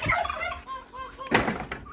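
A turkey gobbles on a farmyard among hens, a few short warbling bursts close by, with a louder gobble near the end.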